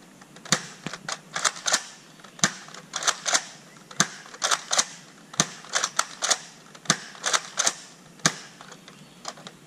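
A modified Nerf RaptorStrike blaster fires darts in a rapid series of sharp, close mechanical snaps and clacks, some in quick pairs, spread steadily across the stretch.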